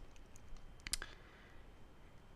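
A quick double click of a computer mouse selecting an exact location on an online map while filling in a well completion report, sharp and close but faint against a low room hiss.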